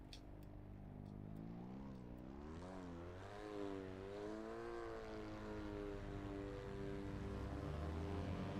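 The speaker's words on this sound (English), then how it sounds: "It's so quiet with just a little two-stroke tick over." A small two-stroke car engine idles quietly in Assetto Corsa sim racing, a soft steady tick-over with gentle wavering pitch that lifts slightly partway through, faint and continuous with no talk.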